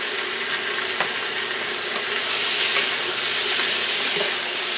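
About a pound of raw, peeled and deveined shrimp fries over high heat, giving a loud, even hiss with occasional stirring taps, close up and without speech.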